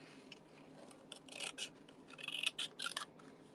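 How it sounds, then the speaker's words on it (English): Scissors snip through paper by hand on a crafting mat, a handful of crisp, close cuts coming in uneven bursts, with quieter rustling between them. "I like it when you hand cut it, so let's do that."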